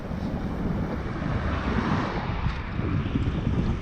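Steady, loud wind buffeting a microphone on a recumbent trike moving at a little over 12 miles an hour, a continuous rough roar with no pauses from start to finish.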